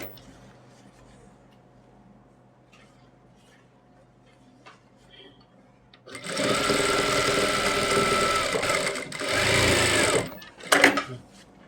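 Sewing machine running loud and steady for about four seconds while stitching an Afghani salwar, after a quiet stretch of faint room noise, ending with a brief burst and clatter.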